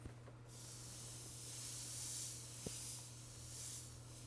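Steam hisses steadily against the wooden stock of a 1903 Springfield rifle to lift dents, a continuous broad hiss that swells and fades a little and is joined by one short tap partway through.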